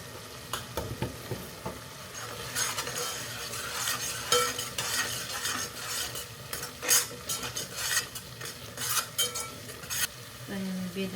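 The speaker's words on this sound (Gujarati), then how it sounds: "તો આપણે ટમેટાની ગ્રેવી મસ્ત રીતે કૂક થવા આવી છે" Spiced tomato gravy frying in a pan with red chilli, Kashmiri chilli and coriander powder, stirred with a utensil: steady sizzle under repeated scraping and clinking strokes, close and continuous.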